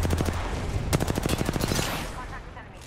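Rapid automatic gunfire from a shooter video game rattles out in a fast burst of sharp, evenly spaced shots, loud and close, with a brief voice at the start.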